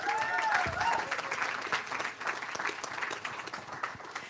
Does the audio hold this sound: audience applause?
yes